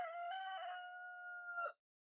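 A single rooster crows once in rural Tennessee, a faint, drawn-out call heard from a distance, then quiet.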